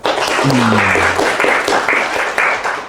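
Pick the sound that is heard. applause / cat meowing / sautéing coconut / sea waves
applause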